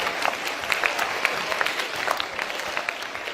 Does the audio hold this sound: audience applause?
yes